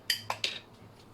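Spiced meat filling with chili paste, salt and meat seasoning worked in a bowl: three quick bright clinks of a utensil against the bowl, close and crisp, then quiet.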